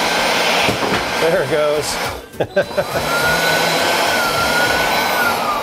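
A Craftsman compact blower runs with a steady loud whoosh and blows a box off a table. A brief clatter in the middle is likely the box falling, and someone speaks briefly over the noise.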